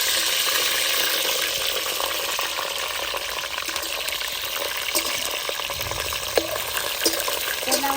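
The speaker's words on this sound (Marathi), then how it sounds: "आता आपण एक किलो मिरची घेतलेली ती आपण याच्यामध्ये परतून घेणार आहे चांगली" Green chillies, a kilo of them, frying in hot oil in a wok for curd chilli, a steady loud sizzle with occasional stirring scrapes and no talk.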